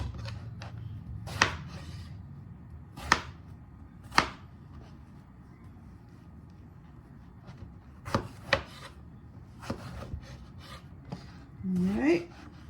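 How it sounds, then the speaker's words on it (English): A knife rough-chops soft peeled eggplant on a board for a turkey ragu. About a dozen sharp, irregular chops land close by in a quiet room, with a short murmur of voice at the end. "I'm gonna go ahead and give this eggplant a rough chop"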